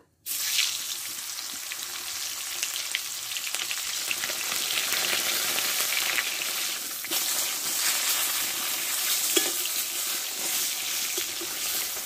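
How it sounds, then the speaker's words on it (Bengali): A fish head fries in mustard oil in a hot wok, a loud, continuous crackling sizzle that starts abruptly and holds steady, with a brief dip midway and no speech. "দেখো কড়াটা গরম করে নিয়েছি, আমি সরষের তেলটা দিয়ে দেবো, দিয়ে মাথাটা আমি ভেজে নেব"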